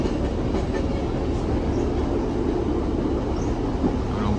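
A passenger train pulls out of a station, probably bound for London Euston, giving a steady loud rumble with faint rail clatter throughout and no voices.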